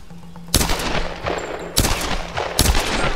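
Three sharp gunshots crack out at uneven intervals during Tomb Raider play, loud and close, each followed by a short ringing tail over quiet ambience.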